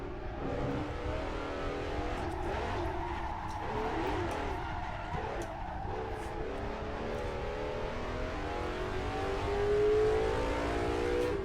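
Vintage racing car engine in the Assetto Corsa driving game, revving up and down through gear changes at close range, with a rising surge and some tire squeal near the end.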